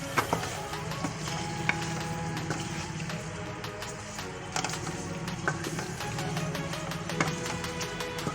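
Chicken tikka karahi sizzles in a pan while a utensil stirs it, with soft scraping and repeated clicks of metal on metal over a steady frying hiss.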